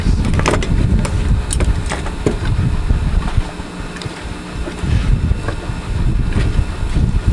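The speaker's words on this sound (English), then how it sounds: "It's spitting water here," A JXQ-10 wood gasifier churns close by with a dense low rumble, broken by sharp sputtering spits and splashes of water scattered through the run.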